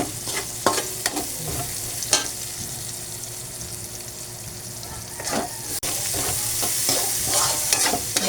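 Onions and pepper frying in hot oil for ginisang sayote, with a steady sizzle under repeated scraping and stirring strokes of a utensil in the pan, close and fairly loud.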